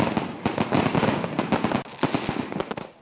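Diwali firecrackers going off in rapid, irregular crackling bursts, loud and dense, a continuous string of sharp pops and bangs with no talking.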